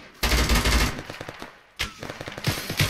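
Bursts of gunfire in a military co-op video game, a loud opening volley followed by rapid repeated shots that fade, then a second burst of quick cracks, with no talk over them.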